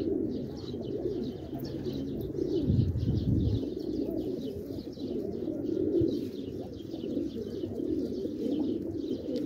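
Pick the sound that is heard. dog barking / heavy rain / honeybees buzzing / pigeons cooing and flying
pigeons cooing and flying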